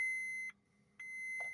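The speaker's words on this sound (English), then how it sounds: "So we're getting all sorts of beeps there." A van gives short, high electronic warning beeps for a dead battery, two clean tones with a gap between them, close and clear against quiet.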